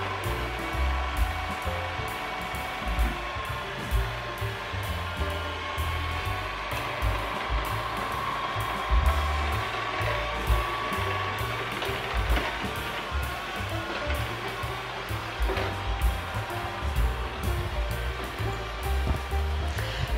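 A robot vacuum starts its automatic cleaning cycle, giving off a continuous whirring hum with a rumbling low rattle as it moves about nearby, steady throughout.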